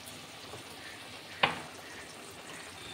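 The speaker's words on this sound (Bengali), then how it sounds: "মশলাটা ভালো করে কষে নেব।" Spice masala being fried in a pan for a Bengali taro-leaf (kochu shak) dish, with salt added: a steady, soft sizzling hiss throughout, broken once by a single sharp click of a utensil midway.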